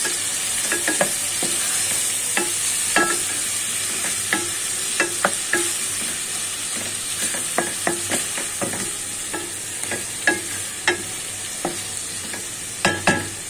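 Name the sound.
water lily stems frying in a pan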